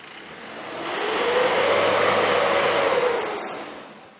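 Isuzu D-Max diesel pickup engine revving up during a black-smoke test after injector cleaning, a broad roar that swells in over a second, holds steady and loud, then fades away.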